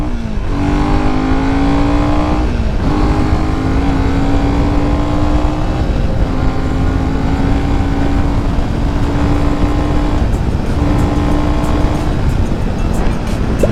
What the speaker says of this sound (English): Okay, let's test this bike's full potential, guys.